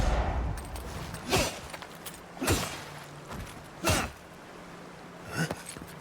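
Super pistol shots in Avowed ring out as four separate sharp bangs about a second apart, each with a short tail, over a low ambient rumble.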